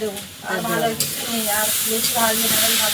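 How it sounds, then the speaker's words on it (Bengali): Eggs and okra frying in a pan at home, a loud, steady sizzle with bubbling crackle and occasional stirring clicks, with a voice speaking faintly underneath. "ওদিকে তো রান্না হচ্ছে এখনো শেষ হয়নি"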